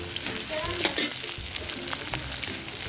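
Shredded cabbage and capsicum fry in a hot pan with a steady, close crackling sizzle and occasional stirring scrapes, and no one speaks.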